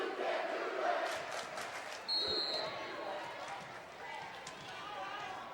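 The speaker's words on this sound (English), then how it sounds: "you can hear the crowd starting to get into it more and more" A volleyball crowd in a gym grows louder with a busy mix of voices and cheers, broken by a sharp whistle and a ball slap, a steady hall ambience.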